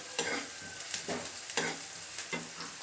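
Onions and spices for channa masala fry in a pan, with a soft steady sizzle broken by several scraping stirs of a spoon at fairly even intervals, quiet and close, with no talking.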